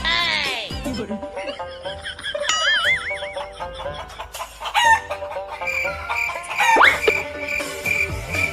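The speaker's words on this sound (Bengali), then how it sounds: "রাজুর বাড়ি থেকে মুরগিটা চুরি করে আন" Chicken clucks and squawks mix with cartoonish sound effects and busy tones, with voices speaking in between.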